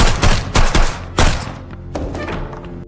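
Pistol gunshots ring out in a tense fight scene from a yakuza film, several loud booming shots in quick bursts with thuds and reverberant tails that fade into a dense rumbling background.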